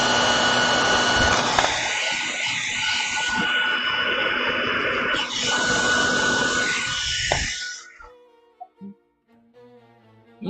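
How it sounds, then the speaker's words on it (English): A hairdryer blows with a loud, steady whooshing roar for about eight seconds, its pitch shifting slightly midway, then cuts off abruptly, leaving faint tonal sounds and brief quiet noises afterward. "I'm going to use my hairdryer real quick."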